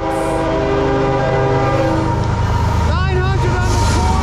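CSX M406 freight train with locomotives 900 and 921 passing through South Plainfield, New Jersey, sounding its horn in a sustained multi-tone blast over loud, continuous rail rumble, with people shouting nearby.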